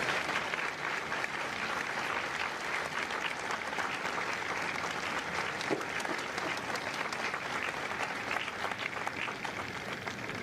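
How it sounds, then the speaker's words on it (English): An audience at a Marine Corps Recruit Depot San Diego recruit graduation gives a steady, even round of applause for Marine veterans, sustained clapping heard from a distance and alone. "A round of applause for their dedicated service to corps and country."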